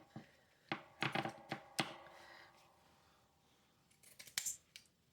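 Scissors snip through paper in a series of crisp, close cuts, a quick cluster of clicks early on, then a pause and another short run of snips.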